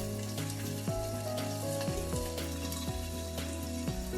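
Onions and bell pepper fry for adobo with a continuous sizzle in a pan. Steady tonal music plays alongside it, and nobody speaks.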